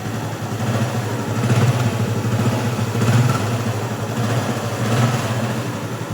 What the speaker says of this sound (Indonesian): ini dia suara mesin dari Supra X 125 Helm In yang injeksi